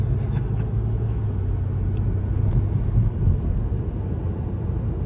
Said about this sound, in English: I'm just lightly tapping the gas pedal.